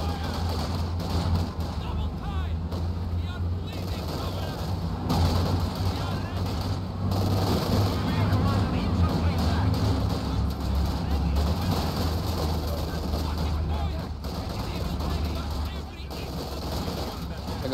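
Heavy artillery bombardment in the World War II strategy game Company of Heroes 2, set in a winter blizzard battle: continuous rumbling blasts and scattered gunfire under a dense wash of battle noise, with voices talking over it.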